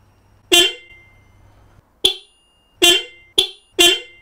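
A Zero electric motorcycle's horn honks five short, loud blasts, one alone and then four in quicker succession, each sharp and bright with brief near silence between.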